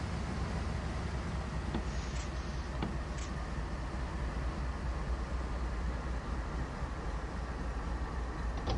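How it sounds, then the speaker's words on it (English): A diesel locomotive engine in Train Sim World 2 drones steadily under dynamic braking, a constant low rumble with a few faint clicks and tones layered on top. "The engine is still revving from the dynamics"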